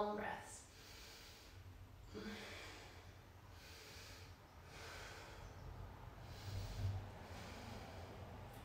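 Calm, slow breathing during a yoga flow, with several soft, rhythmic inhale-exhale cycles of breath noise at close range over a faint background hum.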